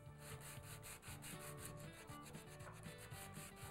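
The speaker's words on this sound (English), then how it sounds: "120 grit sandpaper, wrap it around my wooden block, and then start to polish, making sure that I keep this flat on the part" Metal part hand-sanded with 120 grit sandpaper wrapped around a wooden block: steady, rapid back-and-forth rasping strokes in an even rhythm, close and continuous, with no voices.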